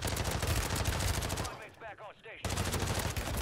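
Rapid full-auto MP5 gunfire from the video game Warzone 3 on Rebirth Island, a loud dense stream of shots that breaks off for about a second and then resumes, with a voice heard during the pause.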